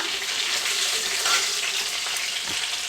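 Crushed garlic and mustard seeds frying in hot oil for a home lunch, giving a steady, close, broadband sizzle that holds evenly throughout with no talking.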